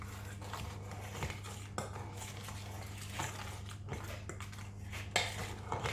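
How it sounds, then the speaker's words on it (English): Flour seasoned with salt being mixed in a bowl, soft scattered clinks and scrapes of a utensil against the bowl, quiet and close. "Then you would season your flour with 1/2 teaspoon salt, yeah, and then you just mix it up"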